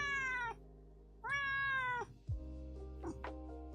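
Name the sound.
black cat meowing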